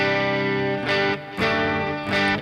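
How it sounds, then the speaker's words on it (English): Electric guitar through a POD HD500 pedal board emulating several amps and effects: sustained, distorted chords with chorus shimmer, a few fresh strums breaking up long ringing notes. "this patch here is actually emulating a couple different amps and some different effects"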